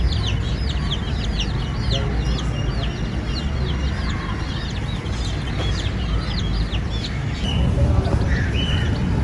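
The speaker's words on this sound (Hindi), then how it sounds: "मुर्गी ने कैसे बच्चों को नीचे दबा लिया" At dusk a hen clucks steadily in a home yard while her very active chicks peep rapidly and continuously all around her, close and lively, with faint voices in the background.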